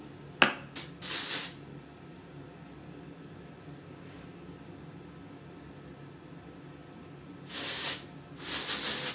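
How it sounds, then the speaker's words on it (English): Dry shampoo sprays onto hair in a short hissing burst near the start, then a longer double burst at the end, close to the mic, with quiet room tone between. "All right, let's go in with the dry shampoo."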